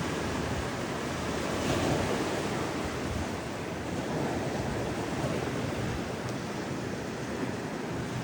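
Steady roar of sea surf on the coast of Bataan, Philippines, with waves washing continuously, broad and rushing, with some wind buffeting the microphone and no voices.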